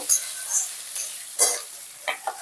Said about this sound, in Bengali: এবার এর মধ্যে গ্রেট করে রাখা আদাটাকেও দিয়ে দেবো আবার আদাটাকেও ভালো করে আলুর সঙ্গে মিশিয়ে নেব